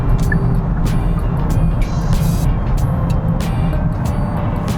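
Steady, loud road and engine rumble from inside a 2022 Genesis G80 cruising on an express lane, a continuous drone with brief faint clicks and higher noises.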